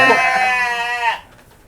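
A well-fed sheep on a farm gives one loud, close, wavering bleat lasting about a second before it breaks off into quiet.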